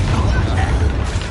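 A Confringo spell blast from the Hogwarts Legacy video game, a dense, sustained booming burst with heavy low rumble lasting throughout, loud and close, with no talk over it.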